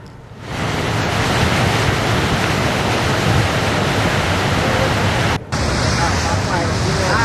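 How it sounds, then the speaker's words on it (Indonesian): High surf crashing at Batu Hiu beach in Pangandaran, West Java, a loud continuous roar of breaking waves that fills the whole stretch, with a brief dip near the end before the roar resumes. "Gelombang tinggi melanda pantai Batu Hiu, Pangandaran, Jawa Barat."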